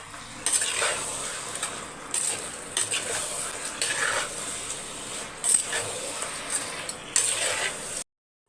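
Chicken curry gets stirred in a metal pot, bursts of clanking and scraping with a soft simmering fry beneath, fairly close and without talk.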